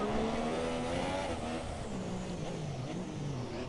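Formula 1 cars racing in the F1 2017 video game, a steady loud engine drone with shifting pitch as cars run close together, continuous throughout without talk.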